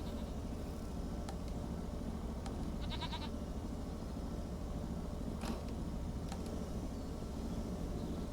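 Goats bleating in a barn in the Farming Simulator 25 video game, a few short distant bleats scattered over a steady, noisy background hum.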